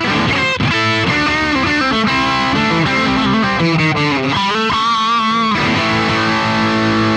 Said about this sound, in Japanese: 結構いい感じに歪みますね